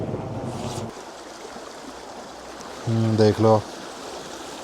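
A river in the Ladakh mountains rushes in a steady broadband wash while someone rinses their hands in it, with someone speaking briefly over the flowing water.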